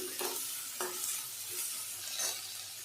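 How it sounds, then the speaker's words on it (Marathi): Chopped tomatoes and onion frying in a pan for a matki batata rassa, a low sizzle punctuated by several distinct spatula stirs and scrapes, close and fairly quiet, no speech. "टोमॅटो पण असा मस्त फ्राय करून घ्यायचा, एकदम असा एकदम बारीक होईपर्यंत फ्राय करत राहायचं छान"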